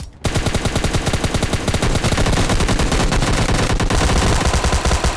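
Rapid automatic gunfire in a mobile shooter game, a loud, dense stream of close shots that starts abruptly after a brief quiet and keeps going almost without a break.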